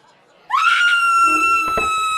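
A woman lets out a single loud, sustained scream in a horror film, rising sharply and holding a piercing tone for well over a second, close and alone.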